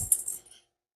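A small metal fork spring from a 1983 Yamaha IT175K drops onto a hard floor with a brief bright jingle, a light bounce or two, then silence.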